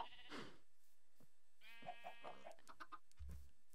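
Sheep bleat in Minecraft, a few short wavering bleats with quiet gaps between them and a brief low thump near the end, faint and alone.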